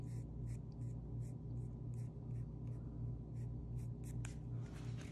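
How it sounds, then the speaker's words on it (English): A pen drawing a hot dog on paper makes soft, rhythmic scratchy strokes in quick repeated bursts, close but faint over a steady low background hum. "This time I'm just gonna draw it and come back with"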